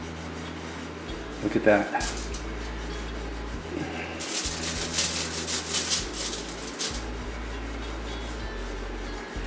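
A rag or brush rubs and rasps against a metal oven rail, scrubbing baked-on grime with GOJO hand cleaner in bursts of scratchy strokes, with someone speaking briefly over it.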